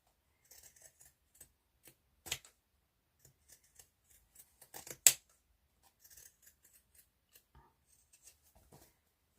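Scissors trimming the seam allowance around the curves of a sewn fabric piece, a series of small, sparse snips and clicks close to the ear, with a couple of sharper, louder cuts amid quiet pauses.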